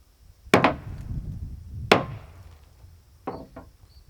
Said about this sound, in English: Got my hammer. I'm not going to bash this up too much right now